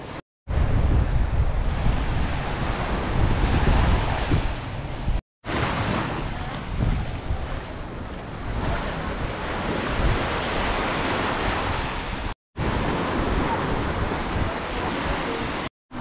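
Rough, churned-up surf breaks on the beach at Playa del Carmen, a loud continuous roar of waves with heavy wind buffeting the microphone, broken by a few brief cuts.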